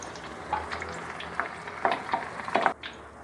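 Shrimp bakwan batter fries in hot oil with a steady soft sizzle, while several louder crackling bursts pop up near the end as the fritter cooks.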